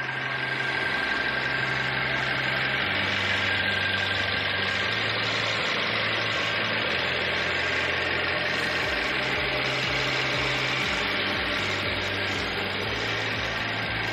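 A 2015 Mercedes-Benz C300 4Matic engine idling with the hood open, a steady, even rumble and hum with a faint high whine that runs unchanged and close for the whole stretch, with no talking.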